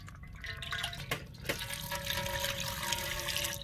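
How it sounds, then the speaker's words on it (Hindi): Cooking oil pours into a large cooking pot set on an outdoor village stove for goat gravy. A short, close liquid splash and gurgle comes after a few clanks and runs on steadily, with no talk. "कुकिंग ऑयल डालेंगे।"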